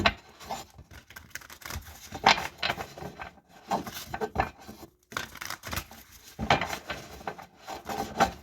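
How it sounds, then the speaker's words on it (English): Tarot cards being shuffled by hand in a quiet room, a string of soft papery riffles and rubs in irregular bursts with brief pauses between them. "let's get a few more shuffles in"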